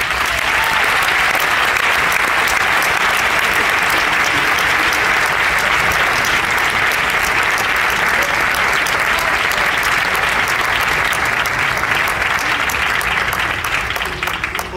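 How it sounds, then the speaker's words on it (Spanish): An audience at a film awards gala in 2014 gives sustained, steady applause, a dense wash of many hands clapping at even loudness throughout, with no speech rising above it. "Así que demos un fuerte aplauso porque nos va a hablar de su película, Guillaume Gallien."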